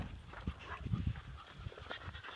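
A dog pants at a busy dog daycare, quick breathy huffs close by, with a few louder bursts and some faint background movement, no one speaking.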